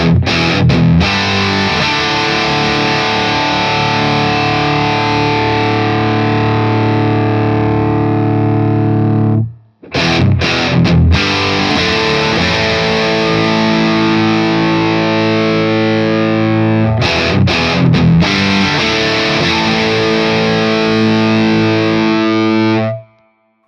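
Electric guitar through a Boss BD-2 Blues Driver overdrive pedal with its stock diodes, playing loud, sustained, crunchy chords in two long phrases split by a brief pause, with no talking.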